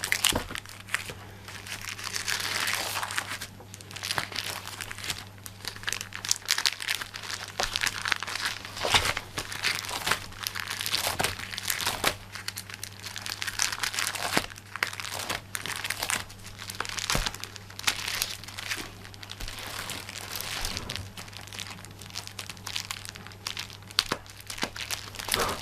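Sheets of border stickers crinkle and rustle continuously as they are handled for an embroidered card, with close, irregular papery crackles and occasional sharper snaps.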